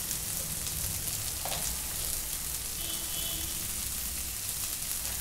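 Cluster beans frying with salt in a pan, a soft continuous sizzle with faint crackle, steady and fairly quiet, no voices.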